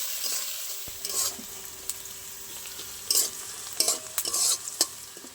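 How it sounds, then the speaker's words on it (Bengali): Chopped onion frying in a pan for a spicy fish curry, a steady soft sizzle broken by several bursts of stirring scrapes near the end, close and moderately quiet, with no voices. "পেঁয়াজটা একটু ভালো করে ভেজে নেব।"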